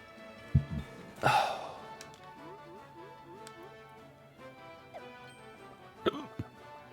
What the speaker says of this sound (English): I know they don't sound like hiccups, but that's what these are.